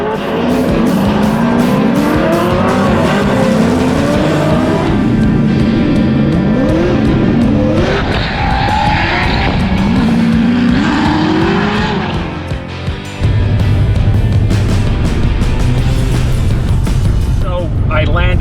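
A 900-horsepower Formula Drift car at the St. Louis event on a tight, technical track, its engine screaming and bouncing off the limiter with tire squeal, loud and continuous throughout.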